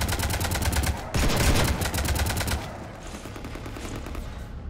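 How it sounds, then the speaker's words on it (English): Rapid automatic gunfire from the video game Mass Effect 3 rattles in a dense, fast burst that swells briefly and then fades to a quieter background, with no speech. "You want to stop shooting up my ship?"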